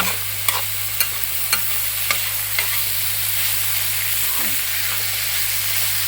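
Crushed shallots sautéing and being stirred in a pan for a chicken dish, a steady broadband sizzle with a constant low hum beneath and several soft spoon scrapes spaced through it, close and moderately loud, with no talk.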